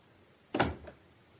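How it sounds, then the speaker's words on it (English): A door is pushed shut in a radio drama scene set in an office, one short solid thud with a brief wooden rattle, close and moderately loud against near silence. "Shut the door."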